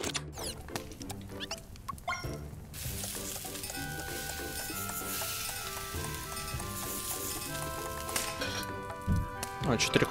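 Food sizzles and fries on a pan while cooking in Phoenotopia Awakening, a steady crackling hiss with light clinks, layered under background game music throughout.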